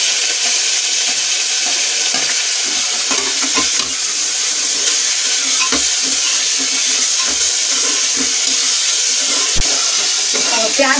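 Onions fry in hot oil with cumin and garlic, sizzling continuously up close as a spoon stirs and scrapes the pan at irregular intervals, with a loud, even hiss throughout.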